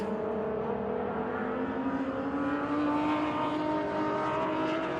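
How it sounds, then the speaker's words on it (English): A Porsche 988 race car on the pit approach during a classic endurance race at Daytona International Speedway, its engine a steady loud drone with layered harmonics that swells slightly, other cars droning in the background. "that is the 988 Porsche coming in"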